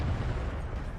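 Tank cannon fire from a T29 or T71 in the World of Tanks video game, a dense continuous boom with heavy low rumble filling the whole second, loud and close with no talk over it.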